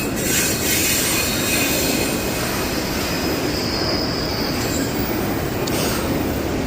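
A freight train rolls steadily past at close range near the tracks, its wheels squealing in a continuous high whine over the dense rumble of railcars for the whole stretch.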